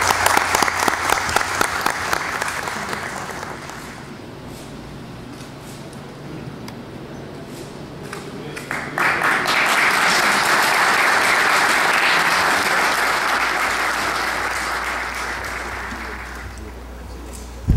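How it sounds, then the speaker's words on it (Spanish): An audience applauds a departing police captain at a citizen security committee meeting, loud sustained clapping that fades briefly and then swells again into a long, even round before tapering off. "voy a pedir un aplauso muy grande"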